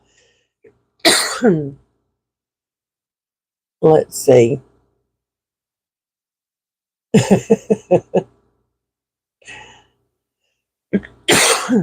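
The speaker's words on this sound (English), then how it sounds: "Sorry, I don't mean to keep coughing." Several short bursts of coughing and throat clearing, close by, separated by silences, with a brief spoken remark among them.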